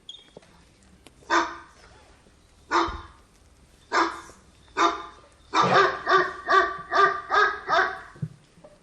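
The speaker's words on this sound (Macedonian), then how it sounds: "од сите страни во селото залајаа кучиња" Dogs barking from all sides of a village at dawn: several separate single barks at first, then a quick run of six rhythmic barks close together, fairly near and clear against a quiet background.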